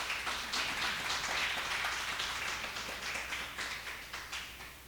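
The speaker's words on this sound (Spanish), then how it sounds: "Alguien que le dé un buen aplauso al Señor" A church congregation claps together, a dense, steady patter of many hands that fills the space, loud and continuous with slight rhythmic pulses toward the end.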